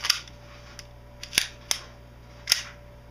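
Magazine seated into a KWA HK USP Compact airsoft pistol, heard as a few sharp, close plastic-and-metal clicks and snaps spaced irregularly over a quiet background.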